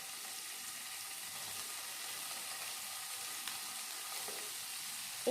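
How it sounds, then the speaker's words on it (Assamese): Paneer fries in oil in a pan for a paneer butter masala curry, giving a soft, steady, continuous sizzle at low level with no talking. "এতিয়া পনীৰখিনি অলপমান ফ্ৰাই কৰি ল'ম"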